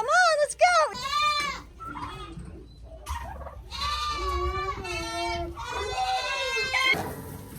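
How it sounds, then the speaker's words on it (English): Several goats bleat loudly and close by in a farmyard, their wavering cries overlapping in quick succession, with turkeys nearby. "we're having a goat party"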